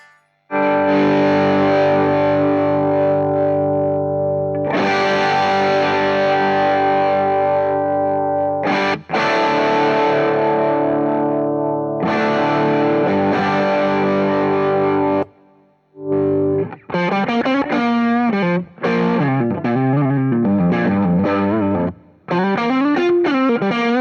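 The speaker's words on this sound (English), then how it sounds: "I'm going to go to op-amp mode, turn down the distortion." Electric guitar through an EarthQuaker Devices Sunn Life V3 octave distortion pedal at low gain, sustained chords ringing out, then quicker picked phrases with thick, fuzzy tone, loud and upfront.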